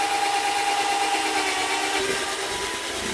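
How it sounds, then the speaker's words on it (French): A power drill with a drill bit whines steadily through wood, boring a starter hole for a jigsaw blade, a continuous high grinding buzz that dips in pitch toward the end. "À l'aide d'un foret, je vais faire une entrée pour ma lame de scie sauteuse."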